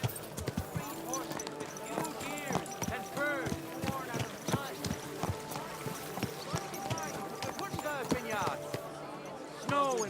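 Horse hooves clip-clop steadily through a city street in the game Kingdom Come: Deliverance II, a rhythmic run of close, hollow knocks with a voice speaking calmly over them.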